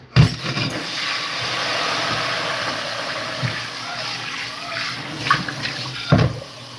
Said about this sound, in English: I add some water in this pot.